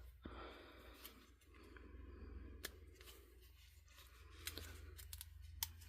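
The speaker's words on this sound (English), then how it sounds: "I'm going to cut anchors on both of these" Scissors snip a series of anchor cuts into material for an epoxy tumbler, crisp close clicks repeating unevenly over a steady low background hum, with no talking.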